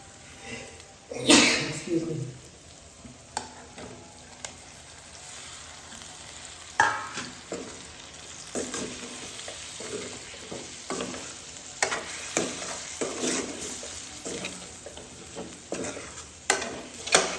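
Chicken pieces drop into thick simmering gravy in a pan, raising a steady sizzle broken by scraping spoon strokes and occasional clacks against the pan, with someone talking over the cooking.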